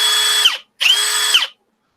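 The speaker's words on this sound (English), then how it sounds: "This is a 1/2 inch hammer drill." A cordless 1/2 inch hammer drill runs in two loud, close bursts of roughly half a second each. Each whining burst winds down in pitch, with a short silence between them and no voices.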